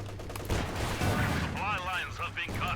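Machine gun suppressing fire in Company of Heroes 2, a steady rattle of bursts and distant battle noise running under a commentator's voice.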